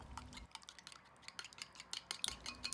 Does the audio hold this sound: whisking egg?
yes